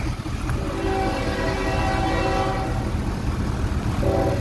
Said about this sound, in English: there's a train every time I make a video because that's just how it is